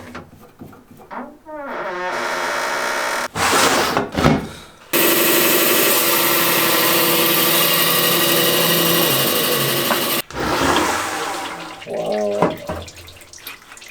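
A saw slices through a large purple passion agate with a thin cutoff blade: a steady, loud, wet grinding whine runs for about five seconds, framed by quieter handling and water noise before and after.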